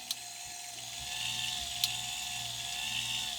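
A 1976 Cadillac Eldorado power antenna motor runs steadily as the mast extends to its full 36 inches, giving a continuous close mechanical whir with a faint ratcheting grind and one sharp click partway through.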